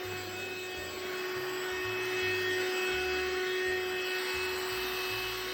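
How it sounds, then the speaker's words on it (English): Kimitech cordless handheld vacuum cleaner running steadily, a constant whining motor drone with a high tonal whine and low fluttering rumble, close and continuous with no talk. "Pretty decent little vacuum."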